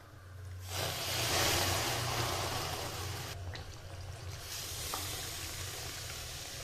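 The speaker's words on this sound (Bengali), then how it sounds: "এখন আমি এর ভিতরে দিয়ে দিচ্ছি দুধ" Milk hits a hot pan of roasted rice and bursts into a loud, close hiss that settles into a steady bubbling sizzle with faint stirring scrapes.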